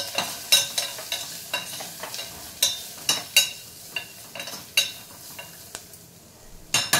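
A dal mixture with turmeric stirred in a frying pan: sharp, irregular scrapes and clinks of a spoon against the pan over a low sizzle, close and fairly loud, with no talking.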